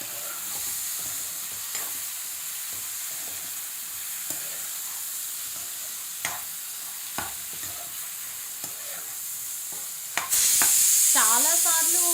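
Eggplant (brinjal) fries steadily in a pan with a constant close sizzle, broken by occasional clinks of stirring. The sizzle ends in a sudden louder burst, and a brief voice follows.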